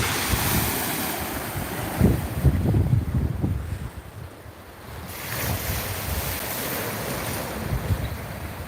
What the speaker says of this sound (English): the water's really stirred up